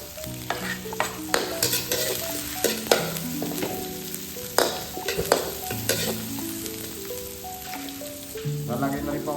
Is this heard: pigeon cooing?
no